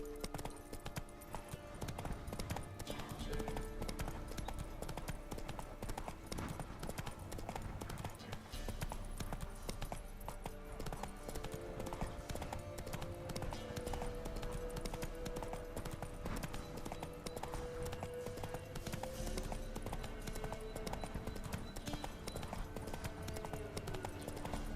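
Roach, Geralt's horse in The Witcher 3: Wild Hunt, gallops with a continuous rapid clip-clop of hooves over a dense bed of game music and ambience, the rhythm steady and close throughout.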